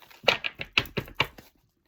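Rapid crisp riffling and flicking of oracle cards, a quick run of about eight sharp papery snaps close by, then silence.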